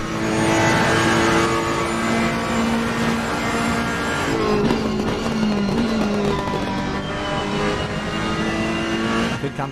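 GT3 race cars at Mount Panorama in a sim racing game roar past in a continuous loud blend of high-revving engines, pitches rising and falling as they accelerate and shift, with no voices.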